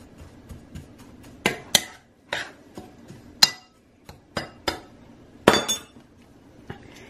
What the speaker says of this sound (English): I'm going to mix this up first